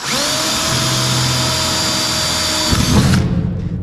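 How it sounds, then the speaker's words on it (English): Power drill boring holes through the steel of a grain bin being retrofitted for ear corn storage, a loud steady high whine running for about three seconds before the bit breaks through and the motor winds down. "So we have to drill our own holes for this."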